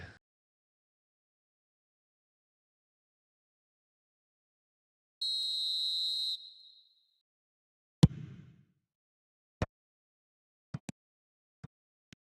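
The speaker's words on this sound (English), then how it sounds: "And the whistle's gone, presumably for offside." In the eFootball video game, a referee blows one sustained, shrill whistle for offside, lasting about a second, followed by a few sparse, sharp clicks in otherwise near silence, with no talk.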